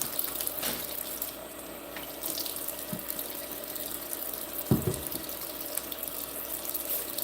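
Water runs steadily from a kitchen sink tap as hands are washed, a soft continuous hiss close by, with a brief clatter near the end and no talking.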